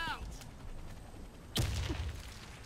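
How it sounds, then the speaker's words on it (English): A grenade goes off in the Warface shooter game, one sudden loud blast midway with a rumbling tail, after quieter ambient game sound and faint voices. "Grenade out!"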